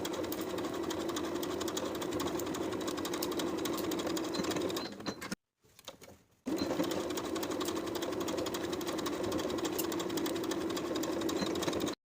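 A sewing machine stitches jumpsuit ties at a 3/8 inch seam allowance, running in a fast, steady mechanical whir, stopping briefly mid-run before resuming at full speed, close and loud with no talk.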